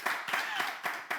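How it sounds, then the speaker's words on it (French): Scattered audience clapping in a small room, a few bursts of hand claps with voices mixed in, brief and moderately close. "Mais applaudissez."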